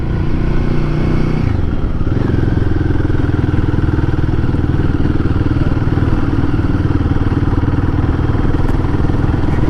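A Royal Enfield Guerrilla 450 motorcycle engine runs steadily and loud up close while riding, a continuous low rumble throughout after a brief shift in tone near the start.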